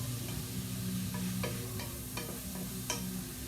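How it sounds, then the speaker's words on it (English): Onion sautéing in a skillet still greasy from cooked turkey taco meat, a steady low sizzle with occasional faint stirring clicks and scrapes throughout. "I'm just gonna kind of saute these together, get the onion cooked up."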